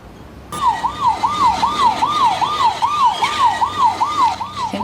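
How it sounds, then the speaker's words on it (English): A loud, close siren wails in a steady, repeating fast up-and-down pattern, cycling about twice a second without a break, over faint background noise and no speech. "It's got a siren, I'm afraid."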